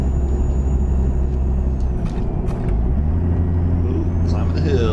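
Semi truck with a 13-speed transmission climbing a hill, its engine a steady, loud low drone with a shift in pitch partway through, heard from inside the cab.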